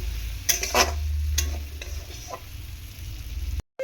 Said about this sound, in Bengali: আলুটাকে আমি সুন্দর করে মশলার মধ্যে কষিয়ে নেব